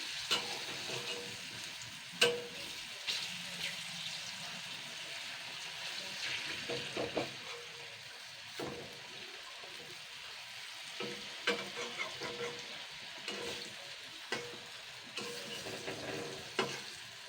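Chana dal fritters frying in oil with a continuous low sizzle, broken by scattered clicks and scrapes of a utensil turning them in the pan.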